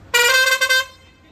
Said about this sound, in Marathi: छान असा हॉर्न मारलाय